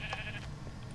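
Short sheep bleats from the Minecraft video game, a wavering nasal cry near the start over a steady low background hum, with no talking.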